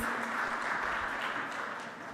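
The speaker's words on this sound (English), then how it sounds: "Can we have a huge round of applause for her, please?" An audience at a cricket league launch event claps in a soft, steady round of applause, fairly distant and even throughout the short stretch.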